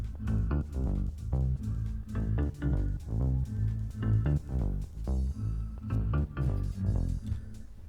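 Tech house synth and bass playing together, with a dense, punchy low-end groove and bright repeated synth notes over a driving beat, continuous and loud, with no voices.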